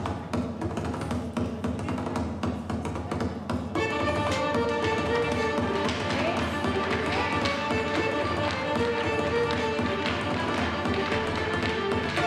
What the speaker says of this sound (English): Special guest this evening is Irish step dance.